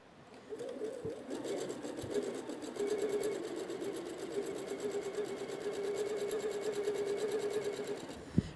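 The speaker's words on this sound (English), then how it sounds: "now I can just chain piece these to sew them together." Sewing machine chain piecing cut fabric pieces for a fitted face mask for children and small adults, a steady continuous motor hum with rapid needle stitching running nearly the whole time, fairly close and alone.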